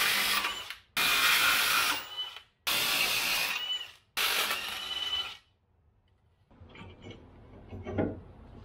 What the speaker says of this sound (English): And throw the impact and just get it done.